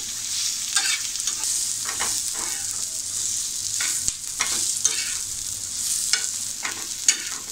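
Ingredients roast in a pan over a high gas flame for stuffed brinjal masala, giving a continuous bright sizzle with repeated scraping stirs and a few sharp utensil taps, close and fairly loud.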